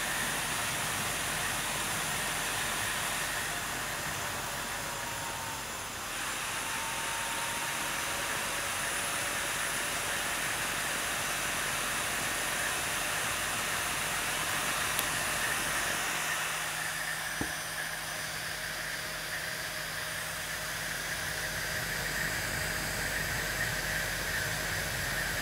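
A brushless motor from a 5.25-inch hard drive spins near 10,000 RPM, giving a steady, loud, broadband whirring hiss with a sustained high whine that shifts slightly partway through, continuous and with no voices.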